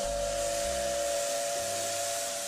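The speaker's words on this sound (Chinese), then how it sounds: "一列蒸汽小火车拉着长长的汽笛奔驰于荒野山林" A small steam train crossing wild hill country in Qianwei County, Leshan, Sichuan, in autumn, gives a long sustained whistle over a steady hiss of escaping steam, loud and continuous without a break.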